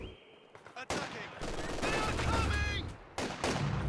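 Company of Heroes 2 battle with rifle volleys and bursts of light machine-gun fire, sharp shots cracking over a continuous rattling din, plus echoing booms and other game sounds.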